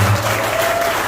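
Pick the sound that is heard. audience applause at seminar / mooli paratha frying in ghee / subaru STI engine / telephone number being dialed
audience applause at seminar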